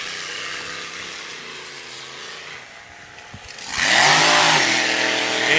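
A hydroplane racing boat leaving the dock at a Gold Cup regatta on the river, its engine droning steadily, dipping briefly, then surging into a loud sustained roar as the boat climbs up on plane.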